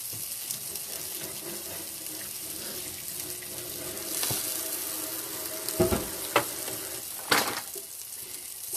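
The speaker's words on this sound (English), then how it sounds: "I'm going to wash my hands." Water runs steadily from a kitchen tap into a sink as hands are washed, a continuous hiss with a few louder splashes and clatters near the end.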